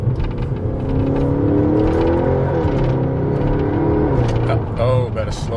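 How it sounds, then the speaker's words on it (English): Ferrari FF exhaust revving and droning steadily while driving, loud and close from inside the car, the engine note rising and settling, with a voice heard briefly near the end. "it's just something about this exhaust that it just makes me fall in love"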